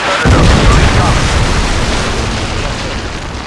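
A Predator missile strike explodes in a Call of Duty match, a loud, close, broadband blast that hits sharply and then rolls into a long, slowly fading rumble, with game voices faintly underneath.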